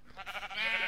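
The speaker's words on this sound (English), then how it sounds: "Will he, like, punch the sheep? Like, kill the sheep as well?" A single sheep in a video game lets out a short, wavering bleat, close and clear, rising in strength over about a second.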